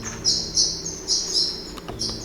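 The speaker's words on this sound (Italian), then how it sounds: "Ma l'uccellino è qui. Si sente cinguettare qui." A small bird chirps close by in a series of short, bright tweets repeating every half second or so, over a low background hum, no talking.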